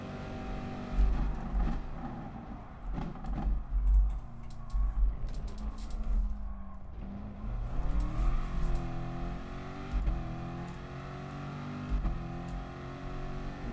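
A Group 3 race car engine in Gran Turismo Sport at Monza, droning and rising in pitch through the gears, with intermittent low thumps and faint keyboard-like clicking over it.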